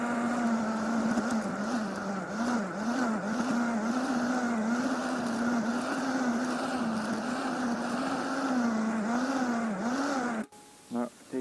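A Parkside PEBH 1500 B2 electric tiller (1500 W, 40 cm) churns garden soil with a loud, steady, close motor drone that wavers slightly as the tines bite, then cuts off abruptly near the end.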